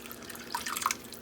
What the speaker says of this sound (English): It's like a splash of water.